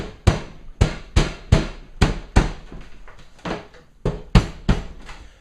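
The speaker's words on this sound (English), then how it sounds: "my bass drum actually fits really snug to the disc, so I'm gonna have to smack it down pretty good" A bass drum is smacked down hard onto a snug-fitting wooden disc, about a dozen heavy booming thuds in an uneven rhythm, close and loud.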